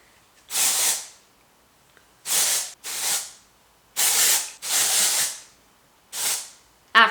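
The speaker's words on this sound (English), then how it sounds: "I'm gonna use my Bedhead OB Hive dry shampoo" Bedhead dry shampoo sprayed onto hair at the bangs and front sections: six sharp, close hissing aerosol bursts, each about half a second long, separated by short pauses.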